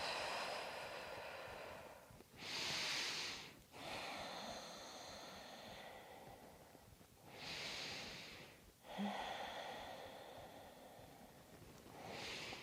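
Slow, deep breaths during a gentle yoga practice, each broad airy inhale and exhale rising and fading in a steady rhythm about every few seconds, close and soft with no talking.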